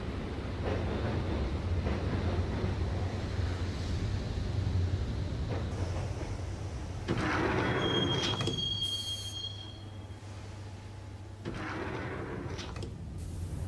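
A train in the video game Max Payne rumbles steadily along the rails with wheels squealing and a high metallic screech midway, the rolling noise easing and then picking up again.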